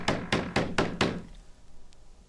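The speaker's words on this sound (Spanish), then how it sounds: "De pronto, llaman a la puerta de su casa." Five firm knocks on a wooden door in quick, even succession as a radio drama sound effect, close and dry, then a quiet pause.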